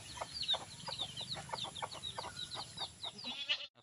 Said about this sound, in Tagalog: Kaya dalawa sila nanay sa 3 sisiw.